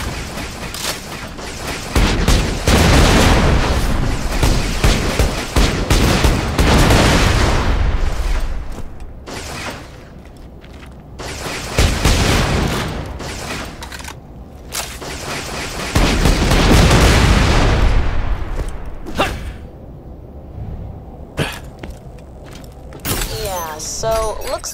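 Turrets firing in Borderlands: The Pre-Sequel: sustained loud bursts of automatic fire with booms and mechanical clatter, rising and easing over time, close in a busy game mix.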